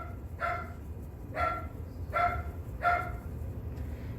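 A dog barks four times at an even pace, somewhat distant, over a steady low rumble of background noise.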